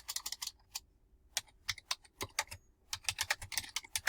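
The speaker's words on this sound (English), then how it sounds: "typing directly into Nearpod." Quick, uneven runs of light clicks from fingers typing on a computer keyboard, heard close up, with short pauses between bursts and no speech.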